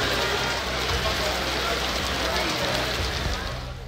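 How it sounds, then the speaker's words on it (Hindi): Steady rain falls across Karachi streets, a dense, even hiss of drops on surfaces with a low traffic-like rumble underneath, continuous and unbroken throughout. "सदर ओल्ड सिटी एरिया, क्लिफ्टन और मुल्हका इलाकों में वक्फे वक्फे से बारिश होती रही"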